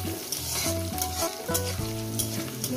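Onions frying with a spoon of salt in a pan for Bengali chicken kosha, a steady bright sizzle with stirring scrapes, heard under background music with a shifting bass line.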